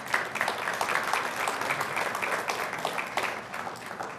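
An audience at the Collinsville 2012 economic development evening applauds a band. Steady clapping with distinct individual claps runs throughout at moderate volume, with no talking over it.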